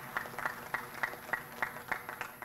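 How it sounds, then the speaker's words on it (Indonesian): Faint, sparse clapping at a city anniversary gathering in Makassar, eight or nine evenly spaced claps heard distantly over low background hum. "Tepuk tangan dulu."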